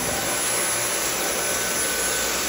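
A Dyson V8 cordless vacuum cleaner runs on its max setting, giving a steady, loud, close-up motor whine and airflow hiss with no breaks and no voices.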